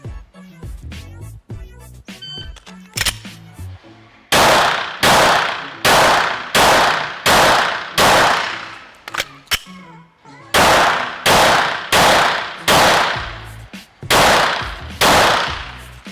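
Loud pistol shots crack out on a PPC shooting course, first scattered and lighter, then fired in quick, evenly spaced strings of sharp reports with brief pauses between strings, close to the listener.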